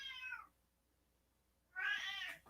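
Two separate cat meows, one short and one longer, sound faint and indoors with a quiet pause between them and no talking.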